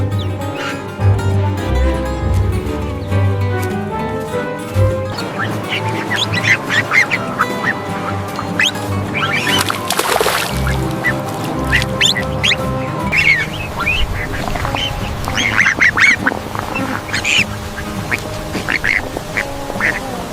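A duckling quacks repeatedly in a busy outdoor farm setting, its quacks mixed with other fowl and honking calls and clattering sounds, fairly close and continuous throughout.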